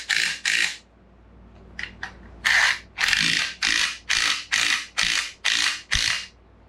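Ratchet wrench cranking water pump bolts snug on a 1968 Pontiac ambulance, a few short clicks and then about eight quick, even, loud bursts of ratcheting close by with no talking.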